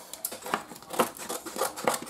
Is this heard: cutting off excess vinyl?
yes